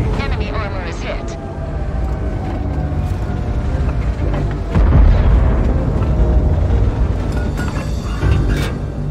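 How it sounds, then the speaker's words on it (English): A tank shell slams into enemy armor in World of Tanks, one heavy boom near the middle of a rumbling battle, with someone talking throughout. "Enemy armor is hit."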